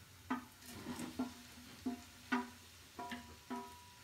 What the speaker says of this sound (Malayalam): ആ മസാലയിലേക്ക് ഫ്രൈ ചെയ്ത് വെച്ച നമ്മുടെ ഗോബി ചേർക്കുകയാണ്.